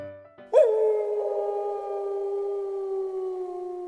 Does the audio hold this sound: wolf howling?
yes